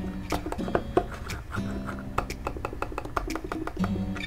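Logitech Pebble M350 wireless mouse clicking repeatedly in a quiet room, a series of soft, muted clicks spread irregularly over a few seconds, close to the ear.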